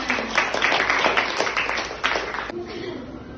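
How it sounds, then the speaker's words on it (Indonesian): A class of schoolchildren in an Indonesian classroom gives a round of applause, a dense wash of clapping lasting a couple of seconds before fading, with voices talking over it. "Tepuk tangan dulu buat kita semua."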